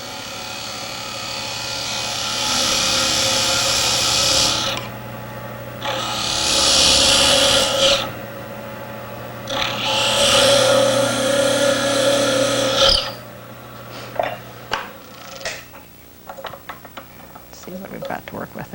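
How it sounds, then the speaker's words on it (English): Hand-held drill bit mounted in a handle drilling out the inside of a turned wooden threaded lid, in bursts of grinding and scraping with pauses, then lighter tapping and handling sounds near the end. "we're going to drill out the inside with the drill mounted in a handle"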